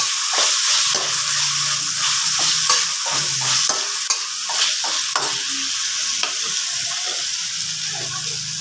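Steady sizzling of carrots and chayote sautéing in a hot pan, with repeated scraping and stirring strokes, close and fairly loud, no talking.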